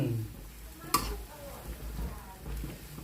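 Fresh chopped herbs and spring onion being stirred into a pot of northern Thai pork sour soup, with a sharp utensil clink against the pot, then soft stirring and faint simmering close by.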